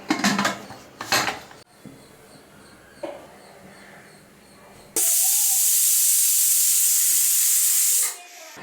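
A pressure cooker with pongal inside lets out a loud, steady hiss of steam for about three seconds. Softer kitchen clatter and brief bursts of noise come before it.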